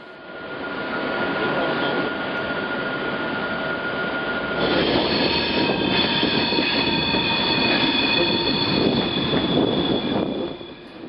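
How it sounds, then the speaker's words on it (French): Inside moving railroad cars, a steady, loud rolling roar of wheels on track with faint rhythmic clatter and thin squealing tones, growing denser partway through and then easing off at the end. "Le bruit à l'intérieur des wagons était envahissant"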